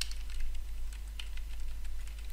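Steady typing on a computer keyboard, quiet and close, with a rapid irregular patter of key clicks over a low constant hum.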